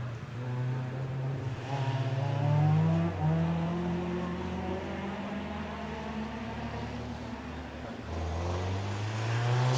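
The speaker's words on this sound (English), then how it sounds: "away goes David Smith in the Clio" A Renault Sport Clio 182 rally car with a 2-litre engine accelerates up a hillclimb at night, revving hard through several gear changes that rise and drop in pitch, steady and fairly close with no talk.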